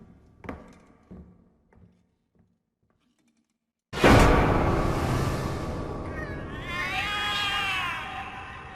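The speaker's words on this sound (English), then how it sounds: "The cats are alarming." Cats meow in alarm in The Cat Lady: a few soft taps, then a sudden loud, sustained wail with warbling yowls rising and falling on top.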